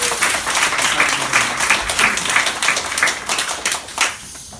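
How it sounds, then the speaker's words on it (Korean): A church congregation at a Sunday morning worship service applauds the choir with dense, steady clapping, moderately loud and continuous throughout. "우리 성가대에게 한번 큰 박수로 한번 격려하겠습니다"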